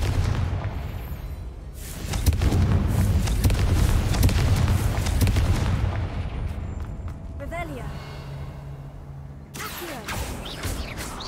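The Confringo fire spell bursting in Hogwarts Legacy: a loud, rumbling blast that swells and rolls for several seconds, then fades into quieter game ambience with a few sharp crackles.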